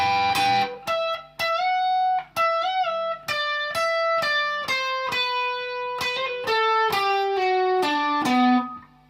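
Electric guitar picking the intro solo line of a song: a steady run of clean, ringing single notes with a few slides and bends, played alone at close range for about nine seconds.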